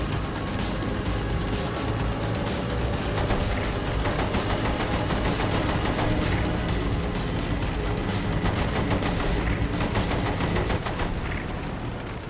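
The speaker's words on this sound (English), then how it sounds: "Use the machine gun then, not the cannon." Sustained machine gun fire in Saints Row: The Third Remastered, a dense, loud, unbroken rattle of rapid shots running the whole length, with engine and impact noise mixed underneath and no speech.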